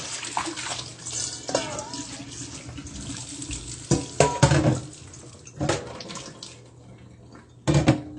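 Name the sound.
rinsing a clean sieve basket with water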